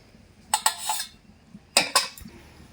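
Metal lid lifted off a pan of chitoi pitha on the stove, giving two pairs of short clanks and scrapes in quick succession, close and fairly loud over quiet kitchen background.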